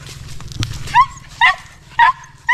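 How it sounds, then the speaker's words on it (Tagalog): Dogs barking in a series of four short, sharp yipping barks, evenly spaced and fairly close, over a low background rumble. "Doon tayo sa mga aso."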